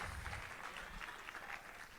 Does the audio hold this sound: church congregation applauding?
yes